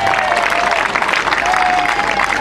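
Stadium crowd clapping at a 2014 opening ceremony as a player is announced on the field, a loud continuous roar of applause with faint whistling tones riding over it.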